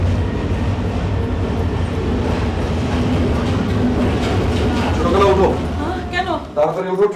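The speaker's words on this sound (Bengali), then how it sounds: "ট্রেন এসে গেছে।" A train rumbles and clatters into a railway station, loud and steady with wheel clicks and a rising squeal toward the end. Voices are talking over it.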